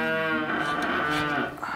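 Cows on a farm low loudly and close by, one long sustained bellowing moo that fills the whole moment without any talk over it.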